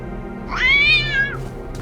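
A single cat meows once in the game The Talos Principle 2, a clear rising-then-falling cry lasting under a second, close and distinct over a quiet background hum.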